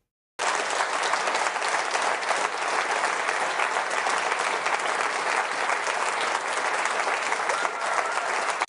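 An audience in parliament claps long and hard, a dense, sustained burst of applause that starts abruptly and holds at an even, loud level for several seconds with no voices.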